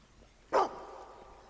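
A dog in Fable II gives one short, sharp bark, moderately close and standing clearly above a quiet background.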